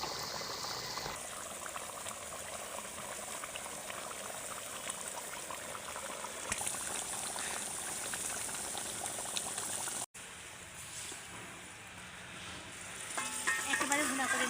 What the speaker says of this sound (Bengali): একেবারে ভুনা করে নিলাম, এই তো দেখেন।